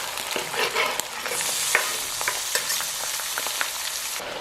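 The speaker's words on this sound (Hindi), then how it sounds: "इस मौके पे जो कटे हुए टमाटर थे वो अब हम शामिल कर लेते हैं।" Chopped tomatoes dropped into hot oil for a Pakistani dhaba-style street chana dal, a loud continuous sizzle with stirring scrapes and clinks, close up and without talk.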